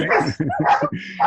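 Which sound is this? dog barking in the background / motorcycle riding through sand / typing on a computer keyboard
dog barking in the background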